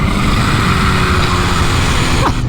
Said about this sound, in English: What a wicked motorcycle